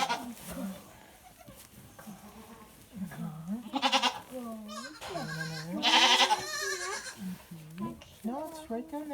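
A baby goat on a farm bleats repeatedly at close range, several wavering cries coming in bursts while people talk nearby.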